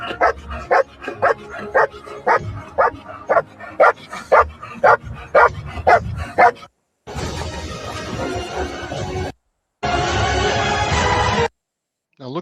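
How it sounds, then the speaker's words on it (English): A dog barks in a steady series of sharp, evenly spaced yips and barks, close and loud, followed by bursts of louder noisy commotion. "look at this dog."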